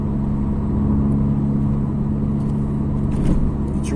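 VW GTI 1.8T turbo engine and exhaust pulling steadily, a loud continuous low rumble and whir that swells slightly near the end, heard from close by with no talking.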